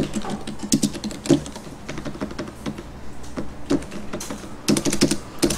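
Computer keyboard keys clatter in quick irregular bursts of typing with a few heavier strokes like the Enter key while drafting in AutoCAD, close and fairly loud with no voice over it.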